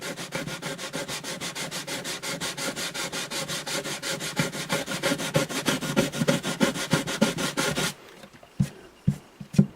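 Sandpaper rubs rapidly back and forth across a rosewood guitar bridge on an Alvarez Artist AD65 acoustic, a steady rasping stroke rhythm up close that stops near the end, leaving a few scattered handling knocks.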